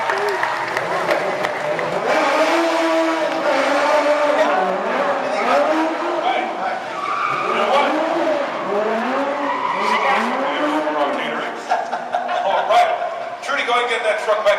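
A camera truck moves through a Walt Disney World stunt-show set, its engine rumbling steadily while a loud crowd claps and cheers and a voice talks over the top.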